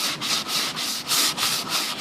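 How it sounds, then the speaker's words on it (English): Steady back-and-forth scratching of a sanding block rubbing wood, in even rhythmic strokes, close and fairly loud with no talking. "you're literally just going to sand on the edges of where you want it to distress"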